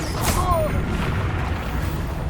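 A Confringo explosive spell blast from Hogwarts Legacy goes off as a short, dense boom with a brief bright burst near the start, followed by a rumbling wash of low battle noise. No one speaks.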